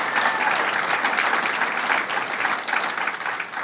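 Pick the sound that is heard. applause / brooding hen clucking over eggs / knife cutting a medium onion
applause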